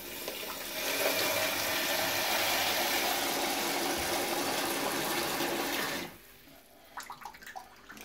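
Water runs steadily from a tap for about six seconds, loud and close with a broad rushing hiss, then cuts off, leaving a few faint clinks and handling sounds.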